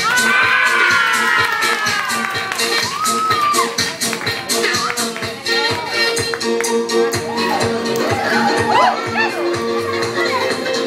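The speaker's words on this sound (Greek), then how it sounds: "Πίσα δυνατά, πίσα και εσύ και πάρε χειροκρότημα." Children at a party in an indoor play area cheer, shout and clap in a loud, lively burst, with voices rising over scattered claps and an adult talking among them.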